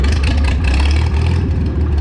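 A Farmall 706 tractor with a 263 engine, fitted with an 806 manifold, runs loud and close, its low chugging exhaust pulsing in a steady rapid rhythm with no voices.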